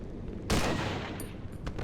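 Gunfire in a video game, a sudden loud burst of shots that fades into a lingering rumble, then a few sharp clicks, with no talk.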